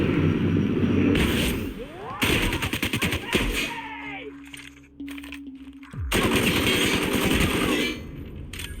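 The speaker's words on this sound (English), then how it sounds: "Apparently a very extremely powerful assault rifle." Assault rifle fire in The Outer Worlds comes in loud bursts of rapid automatic shots with sharp cracks and thuds, plus a whoosh and a sustained electronic tone partway through, before more heavy gunfire.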